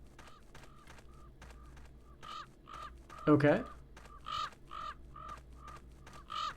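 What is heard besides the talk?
crows cawing in Trespasser custom level, video game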